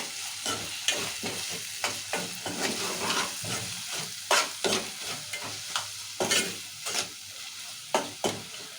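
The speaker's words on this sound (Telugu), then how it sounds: "ఇప్పుడు కలుపుకుందాం మంచిగా" A spoon stirs ridge gourd curry with ginger-garlic, coriander powder and salt in a hot frying pan, giving a continuous close sizzle broken by repeated scraping strokes.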